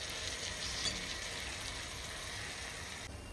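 A tomato and cashew puree hits a hot pan and sizzles in a steady, fairly quiet hiss that continues evenly with no talking.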